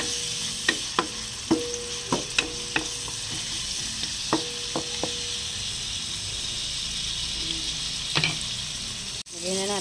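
Ground meat sizzling in a frying pan for a Filipino tortang giniling, with repeated sharp scrapes and clinks of a utensil stirring against the pan over a steady hiss, fairly close.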